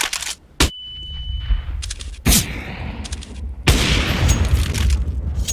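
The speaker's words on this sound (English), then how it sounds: "Deploying flashbang" A flashbang grenade going off in a first-person shooter game, sharp, loud bang-like bursts at intervals amid gunfire-like cracks, ending in a sustained bright ringing hiss, close with no talk.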